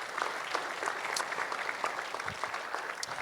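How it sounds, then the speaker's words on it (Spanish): Church congregation applauding at a Sunday service, a steady, moderately distant wash of clapping that runs throughout without talk. "Damos ese aplauso al Señor."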